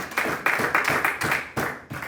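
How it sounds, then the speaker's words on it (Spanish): A congregation in church claps together in an even, quick rhythm, a loud and continuous run of hand claps heard close up with no talking. "Denle un aplauso a Dios."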